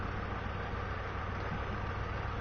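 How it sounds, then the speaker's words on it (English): A truck engine from the SnowRunner game idles with a steady, low, gravelly rumble, continuous and unchanging for a couple of seconds with no other sounds. "So, there's the engine. I think that engine sounds nice."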